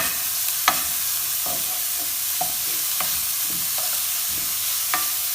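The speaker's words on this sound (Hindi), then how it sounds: "ये सब कुछ ऐड कर देंगे इसके अंदर और इसको भी अब हम करेंगे ऑयल के अंदर फ्राई" Finely chopped vegetables and cabbage frying in oil, a soft even sizzle with a few sparse scrapes and taps of a spoon, close but fairly quiet, no voices.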